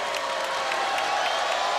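A stadium crowd at a volleyball match point against Irvine cheers and claps, a dense steady roar of applause with faint whoops, loud and continuous throughout.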